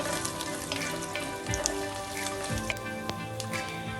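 Cashews and chopped almond pieces fry in hot oil in a pan, giving a steady crackling sizzle with scattered pops and drips throughout, no voices over it.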